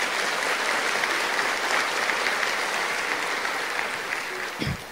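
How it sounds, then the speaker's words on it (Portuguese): Dense, loud applause from an audience at a Catholic religious gathering, sustained steadily across the whole stretch and easing slightly near the end. "Deus e Maria merecem todo nosso aplauso, não é?"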